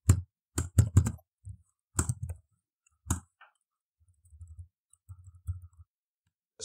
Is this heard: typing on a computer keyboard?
yes